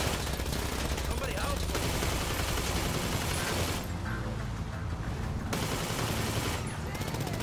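Dense, continuous gunfire and bursts of automatic fire in GTA Online, loud and sustained, with a brief lull partway through before the shooting resumes.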